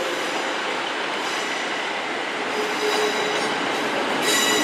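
A ScotRail Class 156 diesel train for East Kilbride moves through Glasgow Central station, its steady rolling rumble carrying thin squealing tones from the wheels, with no talk over it.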